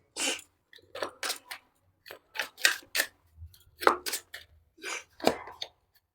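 Tarot cards being shuffled and drawn make a series of short, crisp snapping and rustling bursts, close and fairly quiet, in uneven clusters separated by brief silences.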